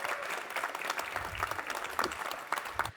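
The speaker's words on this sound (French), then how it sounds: "merci d'accueillir et d'applaudir Vincent Huguet, cofondateur de Malte" Applause from a conference audience at a digital-industry event in France welcomes a company co-founder to the stage, a steady, dense wash of clapping that continues throughout.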